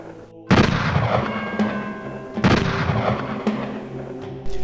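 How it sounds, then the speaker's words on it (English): Gunfire from colonial forces at the Battle of Bunker Hill: loud, booming volleys burst out several times, each leaving a rumbling roll that fades before the next. "the colonial forces opened fire."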